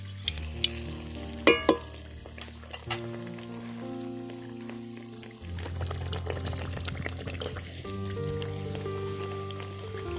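Gram-flour-battered cauliflower chops fry in hot oil with a gentle bubbling sizzle and occasional louder clinks and pops, over a steady low hum, with no talking.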